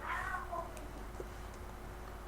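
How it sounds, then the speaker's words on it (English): A house cat gives a single short meow at the start, a little way off in the background of a quiet indoor room, with a low steady hum underneath. "Sorry if you hear a cat in the background."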